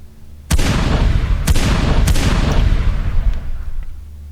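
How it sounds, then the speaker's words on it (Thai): Several gunshots ring out from a distant village, three sharp cracks spaced about a second apart, each trailing into a rumbling echo that lingers over a steady low background. "จู่ๆก็มีเสียงปืนดังขึ้นมาจากทางหมู่บ้าน"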